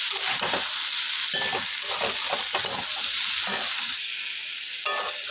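Boiled figs being sautéed in a wok, a steady loud sizzle with repeated scraping and stirring strokes of a spatula against the pan.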